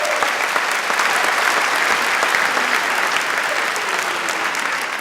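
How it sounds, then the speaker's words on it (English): An audience at a humorist's speaking event claps in steady, even applause that holds for the whole stretch at close range, with no voices over it. "Give Mark a round of applause."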